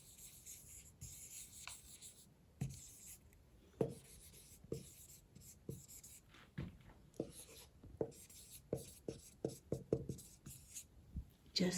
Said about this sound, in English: that chalk on the board.